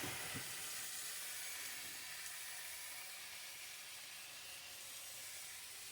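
A pot of potatoes boils on the stove, giving off a steady, loud bubbling hiss of steam that continues unchanged throughout.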